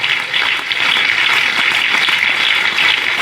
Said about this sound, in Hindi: इसके लिए ताली बजाओ सब अपने लिए।